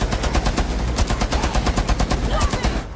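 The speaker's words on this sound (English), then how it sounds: "LMG! Mounted and loaded!" Light machine gun firing in the video game Rainbow Six Siege: a dense, rapid burst of close, loud automatic gunfire with a steady rattling rhythm for the whole three seconds.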